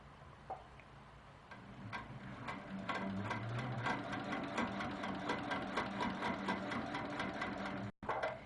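A sewing machine stitches a quilt border along a seam line, with a steady close mechanical whirr and ticking needle rhythm that ends in a brief stop.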